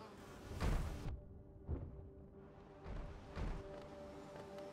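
A large bee enemy in the Hollow Knight video game, heard as a few swelling buzzy whooshes that come and go in separate bursts over a low game ambience, with no talk.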